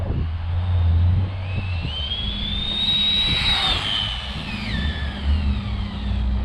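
A JJRC RC car fitted with a 5900kv motor on a speed run, its high-pitched motor whine rising as it accelerates past close by and then falling away, over steady background noise.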